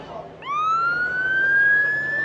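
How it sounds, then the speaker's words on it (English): An ambulance siren starts up suddenly and rises into a sustained wail, near and loud against steady outdoor background noise at an airshow in Blackpool. "Oh, we've got sirens."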